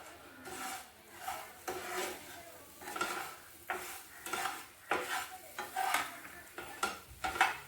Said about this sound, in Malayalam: ഈ പഴം നന്നായിട്ട് ഇതിൽ മിക്സ് ചെയ്യണം കേട്ടോ